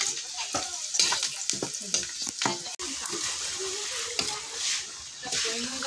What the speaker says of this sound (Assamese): মাংস বনাই আছো দে পুৰা